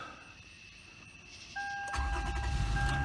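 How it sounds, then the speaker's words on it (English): A car engine cranks briefly and then catches, settling into a loud, steady idle after a quiet stretch of faint background noise. It sounds close by, with nobody talking. "I'm so excited about a car starting."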